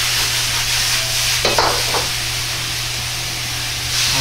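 Bok choy being stir-fried in a wok with Shaoxing wine and sugar: a steady close sizzle and hiss of frying with a few brief clatters of stirring, no talking.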